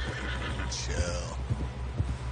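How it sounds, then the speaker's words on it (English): A horse in a western-themed video game lets out a whinny with a rising and falling pitch, mid-loud, over steady low game ambience and faint background voices. "Someone help John down off this horse."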